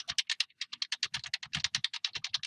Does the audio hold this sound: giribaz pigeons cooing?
no